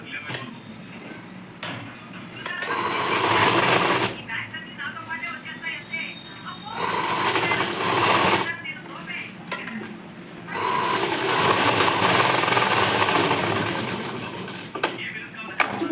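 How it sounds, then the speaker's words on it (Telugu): Domestic sewing machine running a double stitch along the hem of a school skirt, the whirring bursts starting and stopping in several runs with quieter handling and voices in the pauses between them. "డబుల్ కుట్ అనేది గట్టి ఉంటుంది కాబట్టి డబుల్ కుట్టే వేయండి"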